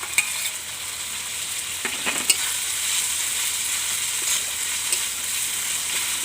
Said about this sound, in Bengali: এখন আমি দেব আদা রসুন বাটা।